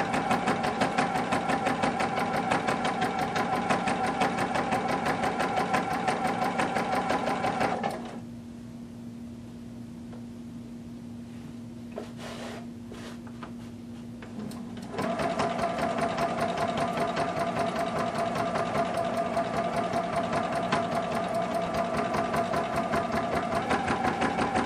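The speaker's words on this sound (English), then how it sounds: "you're just top stitching" Sewing machine running steadily while top stitching a leather pencil skirt, a close, continuous motor hum that drops to a quieter stretch in the middle before resuming at full speed.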